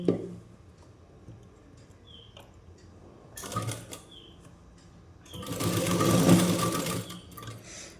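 A sewing machine stitches a petticoat in short bursts, a quiet start followed by a brief run and then a longer, louder whirring run near the end, with small clicks in between.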